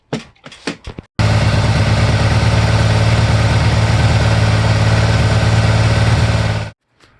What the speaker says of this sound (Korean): 시동을 걸고 한번 확인해 보겠습니다.